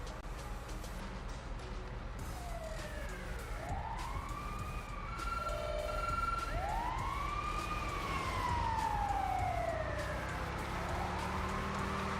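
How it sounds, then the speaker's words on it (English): Ambulance siren in a snowy city driving game, wailing up and down in sweeping tones from a distance and growing louder and nearer over a steady background hum. "I hear an ambulance."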